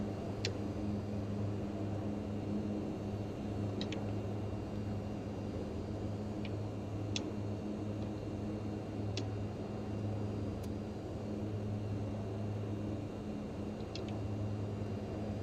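A Mitsubishi MU-2 turboprop at cruise throttle in MSFS 2020 drones steadily and evenly at moderate level, with faint scattered ticks from the cockpit and no talking.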